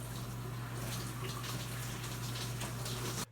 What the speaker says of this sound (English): Let me take my shower, please.